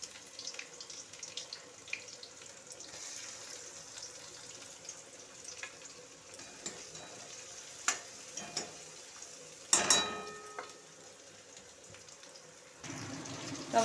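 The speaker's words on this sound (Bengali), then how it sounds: "পেঁয়াজ ফোড়ন দিয়ে দিচ্ছি।" Onion added to hot oil already tempered with cardamom, cinnamon and cumin, giving a quiet, steady frying hiss with scattered clinks and a louder sizzling burst near the end, close by and without talk.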